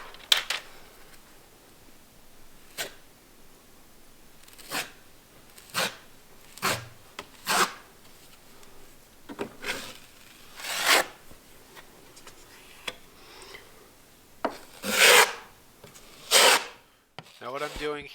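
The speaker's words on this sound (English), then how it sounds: "Take some mud, just evenly work it from side to side." Drywall mud is worked side to side over fiberglass tape on a wall crack, giving repeated short scraping and rubbing strokes at irregular intervals, fairly close and quiet against a hushed room.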